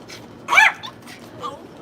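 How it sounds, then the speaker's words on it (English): A dog gives a single short yip or whimpering bark at close range in a quiet morning garden, followed by a fainter second whine. "Up with the dog"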